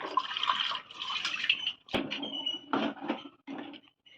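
Water splashes and pours into a blender jar in several close bursts with short pauses, then a few smaller trickles.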